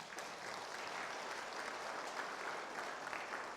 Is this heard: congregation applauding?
yes